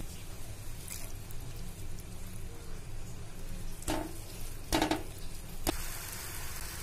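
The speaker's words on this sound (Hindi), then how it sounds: "इसमें केसर वाला दूध डाले थे, 2 मिनट के लिए और पकाएंगे" Bottle gourd halwa cooking in a pan with saffron milk, a soft continuous simmer with a few light stirring scrapes and clicks, close and quiet.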